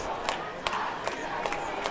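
A full crowd at a high school varsity football game under the lights, a steady broad roar of massed voices with a pep band nearby, punctuated by short sharp bursts and shouts rising out of the din roughly every half second.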